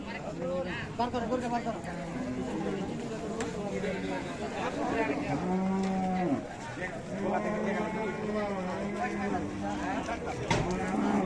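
Young Friesian bull calves moo repeatedly at the busy Raniganj cattle market in Dinajpur, several long, loud lows overlapping with crowd chatter and people talking throughout.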